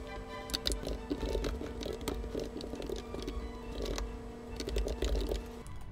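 Steady, fast typing on a computer keyboard while coding, with dense clicking keystrokes and occasional louder key hits running continuously, close and clear, with no talking.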